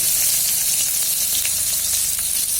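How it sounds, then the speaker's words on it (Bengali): Whole spices such as bay leaf, black pepper, cardamom, dried chilli and cumin sizzle steadily in hot mustard oil in a wok, giving a loud, continuous, bright crackle with small pops throughout. "এবার কড়াইতে দিয়ে দেবো সরিষার তেল আর ফোড়নের জন্য দিয়ে দেবো তেজপাতা গোলমরিচ এলাচ শুকনো লঙ্কা আর জিরা"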